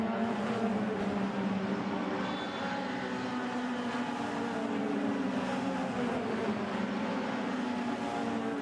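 Race cars dashing downhill at Spa-Francorchamps, a continuous dense engine roar with sustained whining tones, loud and steady throughout with no pauses.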